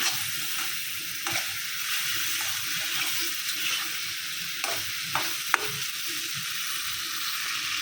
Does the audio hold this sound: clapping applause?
no